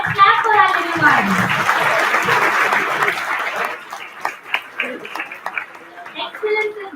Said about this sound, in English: Let's clap for our little ones.